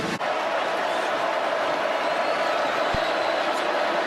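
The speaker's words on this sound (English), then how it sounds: "Georgia crowd still making some pretty good noise in here" Georgia fans fill a football stadium at the 2022 SEC Championship Game against LSU, a steady distant wash of crowd roar with no clear breaks.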